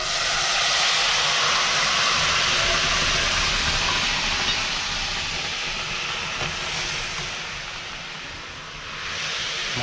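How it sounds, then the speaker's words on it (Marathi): Shevla, a wild monsoon vegetable, drops into hot tempering oil and sets off a loud, steady sizzle and hiss that fills the whole stretch, easing slightly near the end before swelling again, with no talking. "आणि आता आपण शेवल्याची भाजी टाकणार आहोत."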